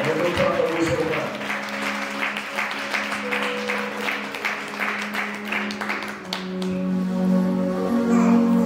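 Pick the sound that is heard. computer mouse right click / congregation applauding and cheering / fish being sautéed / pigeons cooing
congregation applauding and cheering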